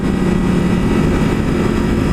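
Yamaha R1M motorcycle engine held under throttle on a mountain ride, a loud, steady low roar that continues throughout with no pauses.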